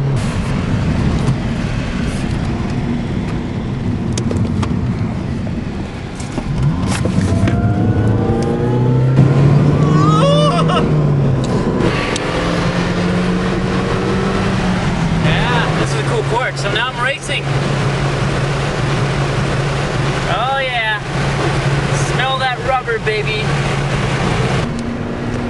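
A mini go-kart engine drones and revs steadily on a track, its pitch rising and falling as it accelerates, with quieter engine whine from other karts around it and occasional voices.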